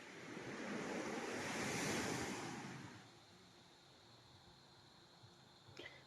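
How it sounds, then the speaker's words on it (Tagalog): Pacific Ocean surf on a white sand beach at Kasiguran Bay, Aurora: a broad wash of breaking waves swells and fades, followed by a steady low roar of distant surf with wind noise on the microphone. "Ito po ay tinatawag nilang Kasiguran Bay. Pero hayan, wala na tayong makikitang kabundukan dyan. Pacific Ocean na po yan."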